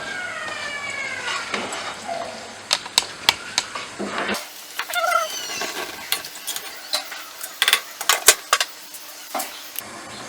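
Pumpkin pieces are stirred and cooked in a pot, a spoon clacking and scraping in irregular close bursts over soft sizzling, with a few brief squeaky scrapes along the way.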